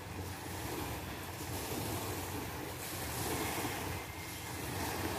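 Sea waves wash steadily onto a white-sand beach at Licuason, Mobo, Masbate, a continuous rushing surf mixed with wind noise on the microphone, with no voices.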